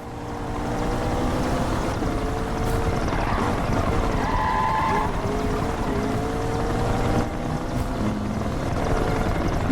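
Police helicopter in the racing video game Need for Speed Rivals during a pursuit: a steady, loud rotor and engine drone with humming tonal layers, continuous and close throughout.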